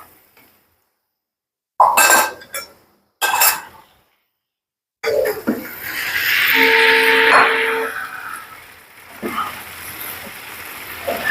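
Pieces of katla fish go into a hot pan of sauteed spice paste with two sharp clattering bursts. A rising hissing sizzle follows, swelling loud and then easing off with faint clinks.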